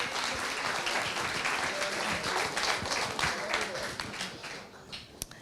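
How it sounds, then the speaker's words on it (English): Audience applause at a road race VIP celebration, a full round of clapping that stays steady, then thins and fades toward the end with a few last claps. "So a round of applause for the Messinas."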